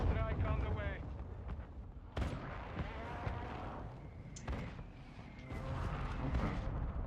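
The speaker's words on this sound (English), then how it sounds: "Friendly mortar strike on the way." Mortar strike explosions in the Call of Duty Warzone 2 (Modern Warfare II) video game, a sharp blast cutting through rumbling battlefield noise, with game radio voices and another burst later.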